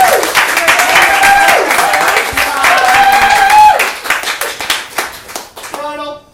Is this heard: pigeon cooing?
no